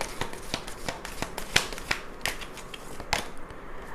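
Tarot cards handled during a reading: a string of crisp, dry card snaps and flicks at irregular intervals, close and fairly quiet, with a few sharper slaps standing out and no talk.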